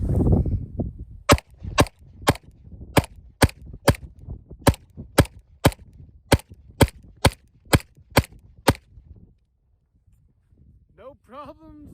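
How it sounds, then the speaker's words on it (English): A Springfield Prodigy Double Stack 1911 pistol, fitted with an optic and a light, fires about fourteen sharp, evenly spaced shots at a steady pace. Faint low background noise sits under the shots, and a brief voice follows once the firing stops. "is the Springfield Prodigy Double Stack 1911."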